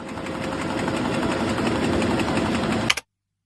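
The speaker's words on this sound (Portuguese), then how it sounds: "Esse som é o de uma impressora produzindo um jornal em papel." A printing press runs off a paper newspaper with a loud, steady, rhythmic mechanical clatter and whir, heard alone, stopping abruptly near the end.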